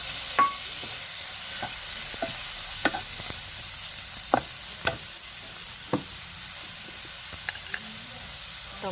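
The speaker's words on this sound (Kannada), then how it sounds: "ಈಗ ನಾನು ಟೊಮೊಟೊ ಹಾಕ್ತಾಯಿದ್ದೀನಿ." Tomatoes frying in an oil tempering with grated coconut for avalakki, a steady close sizzle broken by regular sharp scrapes of stirring.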